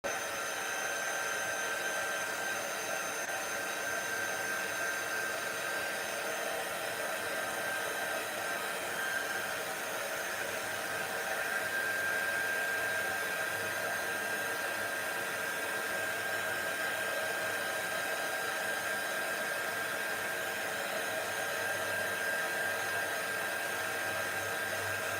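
A hair dryer blows steadily over a thin coat to dry it, a constant loud, even whoosh with a faint high whine that runs unbroken throughout, with no talking.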